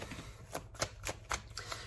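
A tarot deck being riffled and shuffled by hand, a quick run of soft papery card flicks repeating in a steady rhythm, close and fairly quiet.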